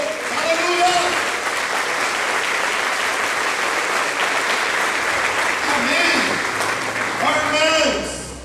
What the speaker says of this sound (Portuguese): E os que creem aplaudam o Senhor.